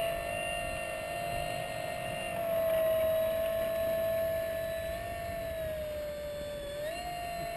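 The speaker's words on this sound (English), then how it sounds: "The Stuka." A Stuka dive bomber's siren wails steadily throughout, a sustained high tone over a lower drone, rising slightly in pitch near the end, loud and continuous.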